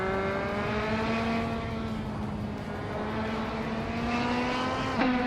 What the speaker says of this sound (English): Roger Bear 302 is leading the race in a 2013 Caterham 620R